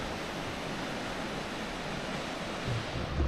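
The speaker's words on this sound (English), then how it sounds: "look at this massive waterfall" A massive waterfall near Banos, Ecuador roars as a steady, broad wash of rushing water heard from a lookout point, constant and fairly loud with no voices.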